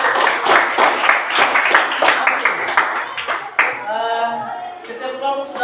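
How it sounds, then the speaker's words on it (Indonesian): A room of people claps steadily for presentation group 4, a dense, close patter of hands lasting several seconds before it fades and a voice begins speaking. "Mari kita berikan satu kali lagi aplaus buat kelompok 4."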